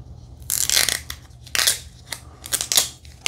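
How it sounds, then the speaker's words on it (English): Tape peeled off the packaging of a plastic drinking straw, several short crackling, tearing rips in quick bursts, close and fairly loud, no talk. "Just peel this tape back."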